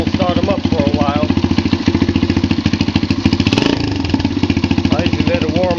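A track-build motorcycle engine chugs loudly at a steady, lumpy idle, then gives a quick rev partway through before settling again, with someone speaking over it.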